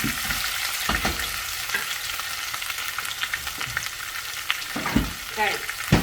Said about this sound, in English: I'm gonna add my tomatoes, garlic, onion